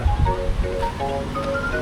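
Broad, steady rush of the wide Wawa River in the Caraga region, source of water for an irrigation system, a continuous wash of flowing water with wind noise and no pauses.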